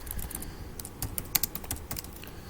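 Quick, crisp clicking on a computer keyboard as text is entered into an MS Word document, irregular bursts of close keystrokes over a faint background hiss, with no speech.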